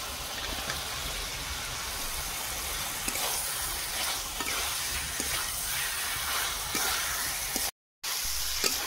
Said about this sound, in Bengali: ভেজে রাখা আলু দিয়ে দেবো।